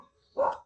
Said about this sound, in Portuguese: Não sei se vocês estão vendo a latida dos cachorros aí